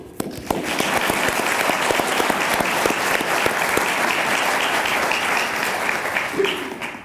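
Loud, sustained audience applause, dense clapping from a large crowd continuing steadily for several seconds.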